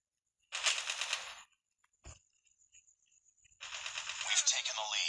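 Bursts of rapid automatic gunfire in Call of Duty Mobile 2v2 Showdown mode, a loud rattling volley, a sharp single shot, scattered small clicks, then another sustained burst.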